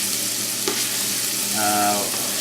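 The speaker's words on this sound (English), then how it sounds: "Now we'll go ahead and add our apples and our onions to this." Apples and onions fry in bacon fat with a constant, close sizzle and crackle; a single knock is followed by a short rattle of stirring, with no speech.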